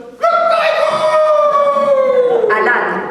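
A rooster crowing sound effect played during a comedy sketch, a loud, close, drawn-out crow with a falling pitch that stops briefly and then resumes.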